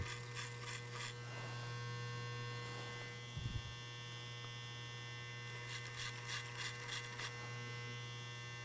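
An electric hair clipper hums steadily during a clipper-over-comb men's side-part haircut, with short bursts of cutting buzz as it passes through the hair.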